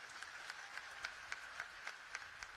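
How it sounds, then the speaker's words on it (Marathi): An audience at a community meeting applauds, producing faint, distant clapping with a steady rhythm of soft claps at an even pace. "टाळ्या वाजवून कौतुक करू"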